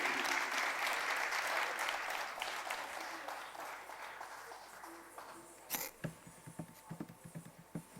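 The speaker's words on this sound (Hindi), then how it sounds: "जोरदार तालियों से उनका अभिनंदन कीजिए।" An audience at a Ram-themed dance-drama performance applauds to welcome a dancer, the thick clapping fading gradually into scattered claps, with faint talk beneath.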